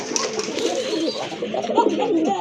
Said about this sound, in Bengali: এটা হচ্ছে এক জোড়া নান কবুতর